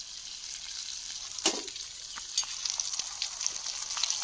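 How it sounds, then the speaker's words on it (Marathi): Freshly caught fish fry in a pan, giving a soft, close, continuous sizzle and crackle broken by a few louder spits, with no talking. "फक्त जरा मासे फ्राय होऊ देत"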